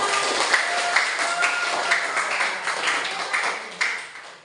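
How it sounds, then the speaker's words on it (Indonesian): A class of pupils clapping their hands together in a classroom, a dense, steady patter of many claps lasting several seconds, fairly close and loud, with a few sharper individual claps standing out. "Kita tepuk tangan."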